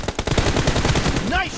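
Rapid automatic gunfire in the BGMI mobile shooter game: a fast, loud, continuous burst of shots, with a short synthetic voice callout rising at the end.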